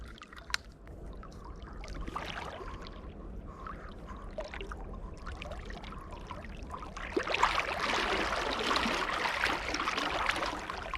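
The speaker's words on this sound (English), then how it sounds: "This is a very powerful river" Water rushes along a powerful trout creek with a steady low wash and splashy trickles, rising into a louder, fuller surge toward the end, with occasional clicks of handling nearby and no talking.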